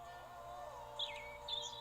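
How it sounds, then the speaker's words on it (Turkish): A bird in the puzzle game 12 Locks gives a few short, faint high chirps over a steady hum of game background music. "Sonrasında şurada bir kuş var."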